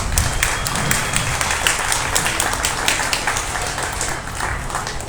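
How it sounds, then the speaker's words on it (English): Spectators at a 2023 beef cattle show applaud a set of heifers, a full, steady round of clapping from a crowd, fairly close and continuous, with little talk underneath. "let's give them a nice big round of applause"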